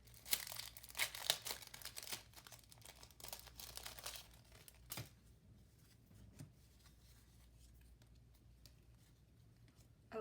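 Loose sticker sheets flipped by hand, giving a run of crisp paper crinkles and rustles that is busiest in the first half, then settles into a few sparse, faint handling sounds.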